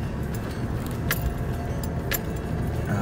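A car creeps over an uneven, jagged rock track, its engine a low steady rumble as loose parts rattle and a couple of sharp knocks ring out.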